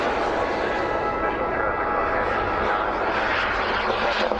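A Havoc model jet roars overhead at a model air show, with a continuous loud engine whine that stays steady, while voices talk underneath.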